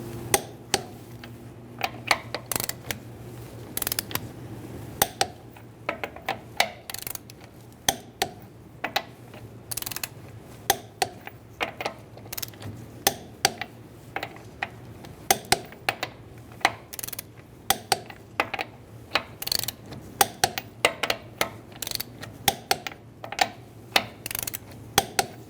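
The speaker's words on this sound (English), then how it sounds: "we can torque it to 80 foot-pounds with a 21 millimeter socket" A Kia Soul's lug nuts are tightened with a 21 mm socket on a torque wrench, giving rapid, close ratchet clicks in uneven bursts over a steady low hum throughout.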